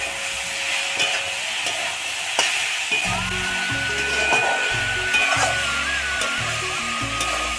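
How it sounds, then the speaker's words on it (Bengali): Leafy greens fry in oil in a wok after onion and garlic, giving a steady close sizzle with stirring scrapes and a few sharp clicks throughout. "এই শাকটাকে আমরা এই কড়াইতে তেলে ভেজে নেব"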